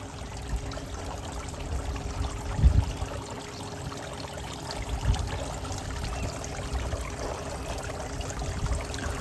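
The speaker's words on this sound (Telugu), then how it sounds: "సౌండ్స్ విన్నారా, భలే ఉంది కదా నీళ్ళు జలపాతం సౌండ్" A small waterfall at a temple gives a steady rushing, splashing pour that continues without a break, with a few louder low thumps, and no talking.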